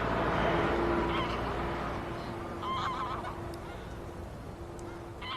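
Wild geese on Lake Neusiedl, part of a migrating flock from the north, honk in a dense, continuous outdoor chorus, with a few louder calls standing out nearer before the din fades slightly.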